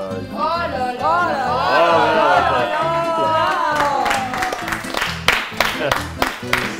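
A small cooking-show audience breaks into lively clapping and cheering with whoops for an apprentice cook plating a dish, starting under excited talk and swelling into loud, close applause.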